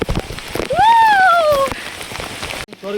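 Heavy rain falls on a monsoon trek at Raigad fort, a steady close hiss of drops, while a high whistling or wailing tone rises and falls briefly midway before fading.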